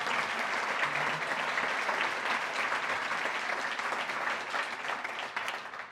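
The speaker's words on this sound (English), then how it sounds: "Give Ralph a nice round of applause" Steady applause from a crowd at a chamber of commerce awards gala, a dense even patter of clapping that holds for about six seconds and then tapers slightly.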